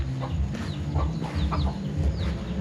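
Free-roaming chickens in a Lahu hill village cluck and chatter in a steady, close flock, with soft rustling and low background noise around them.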